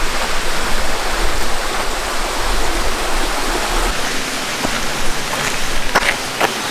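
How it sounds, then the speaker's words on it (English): A small creek flows through Colby Ranch in the San Gabriel mountains, a steady rushing, hissing wash of water that fills the air without a break, with no voices over it. "As you can hear, there's a little creek flowing through here."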